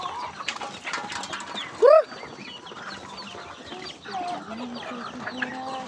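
Rhode Island chickens cluck and murmur in a coop, with one loud, close squawk standing out partway through and softer clucks continuing around it, plus faint rustling in the background.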